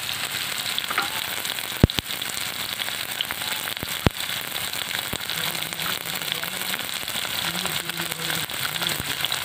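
Onion paste fries in hot oil for a village-style lentil and egg dish, a dense, even sizzle and crackle throughout with a few sharp pops, close and loud.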